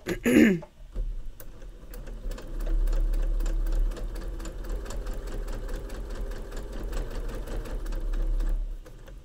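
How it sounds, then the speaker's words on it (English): Fabric pieces for a sewing machine mat are stitched on a sewing machine, a steady close mechanical whirr with a fast rhythmic needle chatter running for several seconds after a brief throat-clearing sound at the start. "get it right up against that needle so that when it starts stitching, it grabs it"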